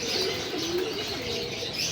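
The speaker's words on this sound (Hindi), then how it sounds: "88 नंबर है ये कबूतर।" A pigeon, a gifted bird numbered 88, coos close by in a soft, continuous murmur, with faint rustling and chirps in the background.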